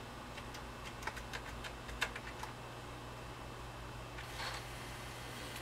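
Keys clacking on an Apple IIc computer keyboard, a quiet run of sharp, separate strokes with uneven rhythm, followed by a brief burst of softer rattling, all over a steady low hum.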